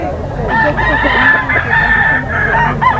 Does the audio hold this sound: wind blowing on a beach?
no